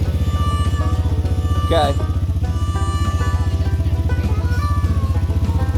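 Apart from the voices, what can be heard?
Honda Fourtrax 300 ATV with tire chains driving in snow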